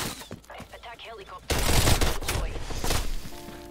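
An MP5 submachine gun in Call of Duty: Cold War fires loud, dense bursts that take over halfway through, following a stretch of quieter game sounds and a voice.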